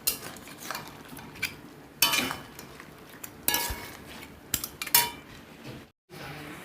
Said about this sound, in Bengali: এবার এটা দিয়ে কিছুটা কষিয়ে নেব